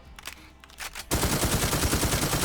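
An M134 minigun in the video game Infestation opens up after a few faint clicks and shots, then fires a loud, rapid, continuous stream of rounds to the end.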